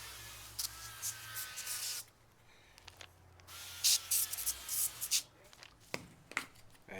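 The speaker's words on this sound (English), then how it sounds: "as a binder, I'm using some oil spray" Avocado oil spray hisses in short bursts onto a clean prime rib as a binder, a few close spritzes separated by pauses and light handling noise.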